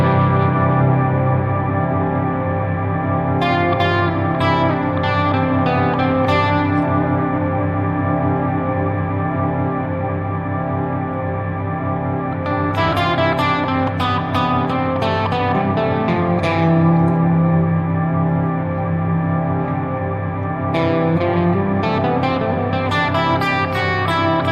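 Full music mix played back in REAPER with a printed reverb effect on, dense sustained harmonic layers washed in reverb and echo, with bright bursts of higher accents recurring throughout, loud and steady with no talking.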